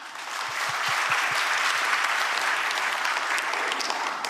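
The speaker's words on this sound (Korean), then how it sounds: "박수 부탁드립니다" A roomful of people clapping steadily at a Korean government press briefing on fiscal and legislative plans, sustained even applause throughout with no speech over it.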